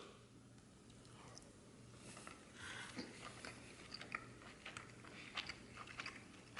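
Someone bites into and chews a cherry wood smoked pork chop, giving soft crunchy, moist chewing sounds up close against a quiet room hum. No one talks.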